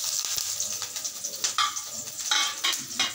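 Green chili dropped into hot oil in a pan sizzles and spits loudly and close, with crackling bursts and stirring scrapes rising and falling over a few seconds.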